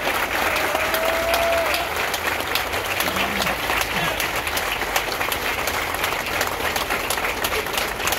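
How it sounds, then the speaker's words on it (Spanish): A crowd gives long, steady applause at the funeral of a former mayor of Santa Maria Joyabaj, Quiché. The dense clapping continues evenly throughout, fairly close. "yo quiero que le brindemos un fuerte aplauso al mejor alcalde, al gran hombre"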